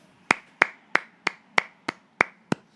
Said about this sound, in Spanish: Un aplauso para Asia Menor